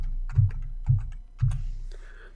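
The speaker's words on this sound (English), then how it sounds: "By using the plus and minus keys, I increase or decrease the quantity of the order." Plus and minus keys pressed on a computer keyboard in trading software, three distinct soft clicks spaced about half a second apart, close and quiet over a low steady hum.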